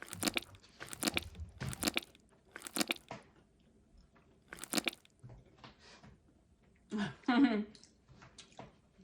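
Several crisp bites and crunches come in bursts between pauses, with a person speaking briefly near the end.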